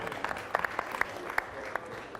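An audience applauding at a conference in Toulouse, with scattered individual claps rising out of a soft crowd wash, moderately faint and brief, with no voices.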